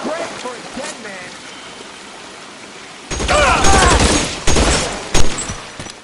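Loud gunfire in LA Noire opens up abruptly halfway through, a few heavy cracking bursts following a quieter stretch of low ambience.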